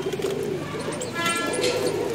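A fancy-tailed Jarcha pigeon coos softly in a continuous low murmur, with faint background noise throughout.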